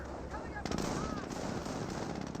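Rapid machine-gun and rifle bursts crackle in a Company of Heroes 1 battle between Panzer Elite and US forces, firing on a garrisoned unit, dense repeated shots that grow louder after a moment, with faint voices.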